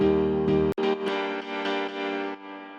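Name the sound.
piano chord layer without processing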